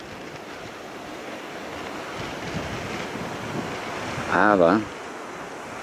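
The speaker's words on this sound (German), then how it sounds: "ich weiß nicht, ob ihr den Wind hören könnt" Wind and surf along the coast near Kragerø, Norway, make a steady, full rushing wash with gusty microphone buffeting. A brief voice speaks near the end.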